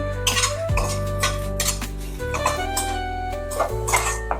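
Onion and turmeric powder sautéed in a pan for a potato chutney, with repeated metal scrapes and clinks of a spoon stirring against the pan, close and steady with no talk.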